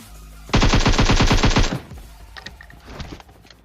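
In the PUBG Mobile video game, one rapid automatic burst of gunfire rattles for about a second, loud and close, followed by a few fainter distant shots.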